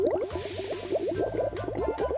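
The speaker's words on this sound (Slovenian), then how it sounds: "Voda vre." Water boiling in a superhero video game: a rapid run of bubbling, gurgling pops, about a dozen in two seconds, fairly close over a hissing background, with no talking.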